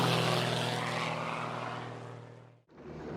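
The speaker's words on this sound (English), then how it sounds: "this plane has 4 engines" Four-engine propeller airliner from the 1980 film Airplane, a steady loud engine drone in flight with strong low harmonic hum and broadband roar that fades slightly before cutting off abruptly near the end, then resuming.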